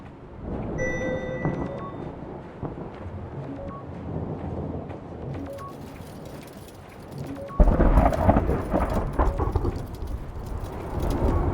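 A thunderstorm rages in the video game Return to Grace: low rumbling and rain-like hiss churn steadily, then a loud thunderous surge breaks in and the storm stays heavier to the end.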